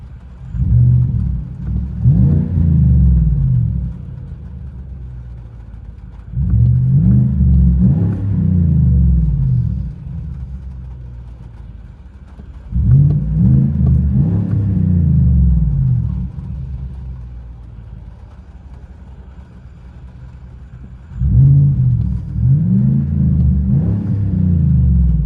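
A 2022 GMC Sierra 2500 HD with a 6.6L V8 and Flowmaster Outlaw exhaust, heard from inside the cab: four deep rumbling revs in a steady rhythm, each dropping back to a low idle between them.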